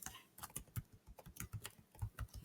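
Keys clatter on a computer keyboard in quick, irregular bursts of close clicks, typing into a Google web browser; the sound is faint and no one speaks.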